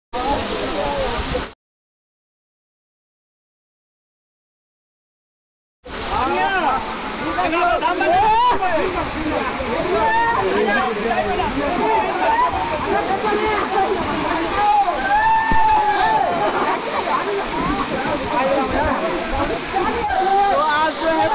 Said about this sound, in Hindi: मोबाइल से पानी गिर रहा है भाई, देख लो इतना पानी गिर रहा है।